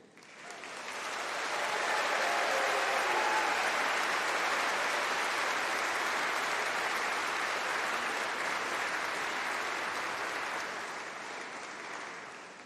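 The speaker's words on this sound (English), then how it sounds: "Please give yourselves the first of the day's big round of applause and some cheers." Graduation ceremony audience breaks into a long, loud round of applause mixed with cheers, sustained steadily for over ten seconds before tapering off slightly at the end.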